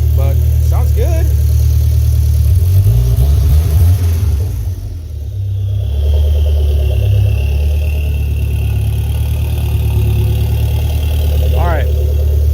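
Toyota MR2 engine running steadily on a dyno, a loud continuous low rumble with a brief dip midway, with a person talking over it.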